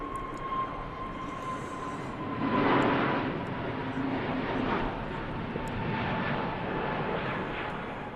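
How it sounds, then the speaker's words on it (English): A KLM Neo airliner departs Manchester Airport, its engines a broad, distant roar that swells and stays steady over several seconds, with faint steady tones and light background noise. "KLM Neo departing there."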